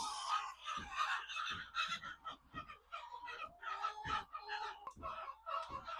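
Chickens cluck and squawk inside a poultry house where eggs are being collected, with overlapping calls from several birds in quick, uneven bursts, close and fairly lively, with no talking.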